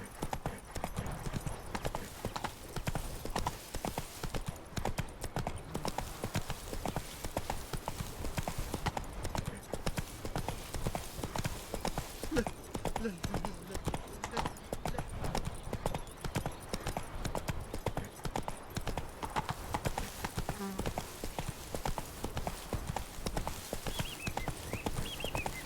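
Roach the horse gallops with fast, steady clip-clop hoofbeats through a Witcher 3 game scene, loud and continuous for the whole stretch, with scattered game sounds and occasional voices around it.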